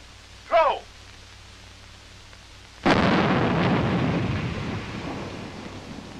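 A live hand grenade bursts on a practice range with a sudden loud blast that rumbles and fades over several seconds, preceded by a brief shouted command and quiet background.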